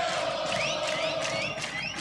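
A stadium crowd at a Brazilian Série B football match, Guarani against Londrina, cheers and chants in support, a dense distant roar with rising whistles and shouts over a continuous wash of voices.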